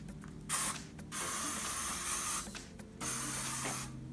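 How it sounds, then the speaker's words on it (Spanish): Hair spray, used like a light lacquer to hold curls made with a flat iron, hisses out in three short bursts of about half a second to a second each, close and clear in a quiet room. "uso este spray que es para que, como una laquita"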